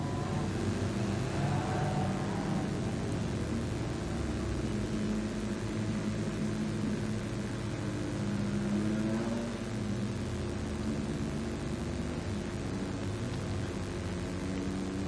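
A junior sedan race car circles Gympie Speedway on a lap of honour after a New Stars final, its engine a steady, fairly distant drone mixed with crowd and track ambience.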